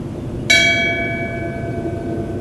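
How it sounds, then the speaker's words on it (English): A single bell struck once in tribute to a deceased retired police lieutenant at a sheriff's office memorial, ringing out sharp and clear then fading with a long, sustained hum over a low background rumble. "Would you please ring the bell for retired Lieutenant Peter Haas?"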